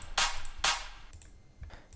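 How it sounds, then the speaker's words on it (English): Two sharp, bright clap drum samples hit in quick succession, each a short burst of noisy snap standing alone with a faint low thump trailing beneath, from an electronic dance track production. "Then we have a clap."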